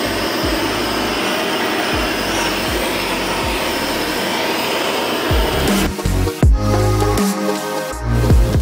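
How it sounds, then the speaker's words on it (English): A loud, steady roaring blast of a heat gun warms a transmission differential part on an M32 gearbox so it drops into place. A few thumps and metallic clunks follow near the end. "I think I'm gonna heat this up a little bit so it will drop right on down"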